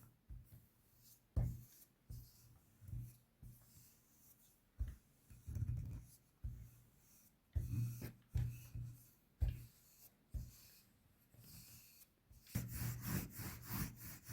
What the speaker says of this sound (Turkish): Merdaneyle narin hareketlerle açıyorum.